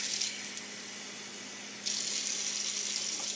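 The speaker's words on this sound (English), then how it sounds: "just using normal tap water here" Ordinary tap water runs steadily from a faucet in a kitchen-type setting, a continuous close hiss and splash that grows noticeably louder and brighter partway through as the flow increases, with no talking.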